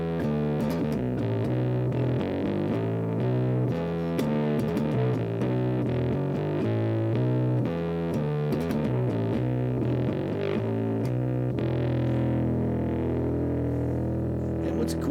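An electric guitar on its neck pickup through a distorted dirt channel, bass turned fully up and treble fully down on the pedal, plays a thick, sludgy riff of chugging low chords, loud and continuous with no talking.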